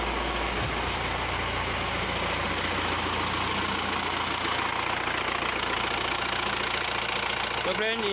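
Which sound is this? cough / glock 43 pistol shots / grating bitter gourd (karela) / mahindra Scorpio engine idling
mahindra Scorpio engine idling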